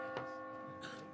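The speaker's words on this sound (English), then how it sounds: "Midnight. But the bell only chimed once." A church bell strikes a single chime at midnight in a theatrical production, one resonant tonal stroke with a lingering hum that holds across the short clip, with no other sound around it.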